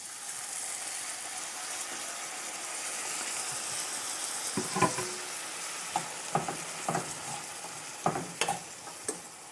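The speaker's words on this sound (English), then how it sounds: "now we're going to add our slurry to give it some moisture" A steady sizzle rises as slurry is added to green beans cooking in a pan for subji, with stirring scrapes and clacks turning up irregularly in the second half.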